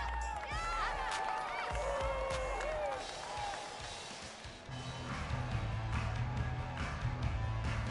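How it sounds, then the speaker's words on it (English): Home crowd at a sports game, broad crowd noise with scattered cheers and clapping holding steady throughout, swelling slightly toward the end, with whistle-like calls early on. "And the home crowd applauding."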